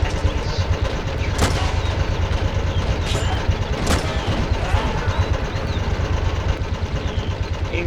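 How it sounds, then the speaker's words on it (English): A tank in the video game Plastic Army Men rumbles on a steady engine drone while its gun fires a few sharp, loud shots at irregular intervals, with no talking. "I'm actually going to move the tank, the gun, fire on the enemies"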